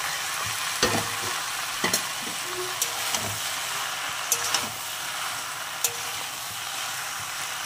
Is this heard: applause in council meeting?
no